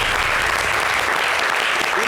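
Audience applause at a French TV broadcast with guests Chouchou Salvador and Laydy Bug, a dense, steady wash of clapping that holds at full loudness across the whole stretch.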